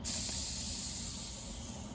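A spray bottle filled with cherry Dr. Pepper lets out a steady hiss of released pressure, close and fairly loud, starting abruptly and fading slightly over two seconds.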